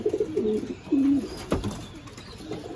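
Young racing pigeons coo in a Texas loft, with several close, low, throaty coos in short phrases and a single soft thump partway through. Nobody speaks.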